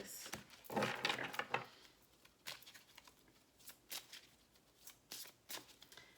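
Tarot cards are shuffled by hand in quick riffling bursts and soft slaps, a dense flurry early on followed by several short separate shuffles in a quiet room.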